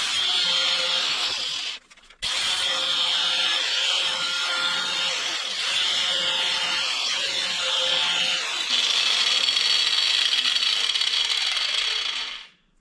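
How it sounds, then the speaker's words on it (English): Gentle cutting and light polishing on an inner CV ring from an Austin Allegro restoration, a steady close scraping and rubbing that runs almost the whole time, breaking off briefly near the start and stopping at the end. "I'm just very, very gently kind of almost polishing it."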